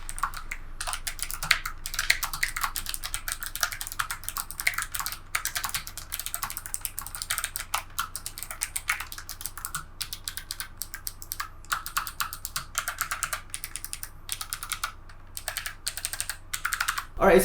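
Steady, rapid typing on a Logitech G915 LIGHTSPEED wireless mechanical keyboard, dense close keystroke clicks running continuously with no talk.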